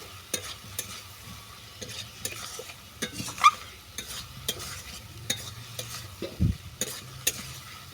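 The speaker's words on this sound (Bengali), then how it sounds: "এর সঙ্গে তুলে দিচ্ছি ভেজে রাখা ঢ্যাঁড়স ঢ্যাঁড়সটাকে ভালো করে মিশিয়ে নিচ্ছি" Fried okra being stirred into a potato and spice mix in a pan, with a soft sizzle under repeated spatula scrapes and taps in an uneven rhythm. A heavier knock comes near the end.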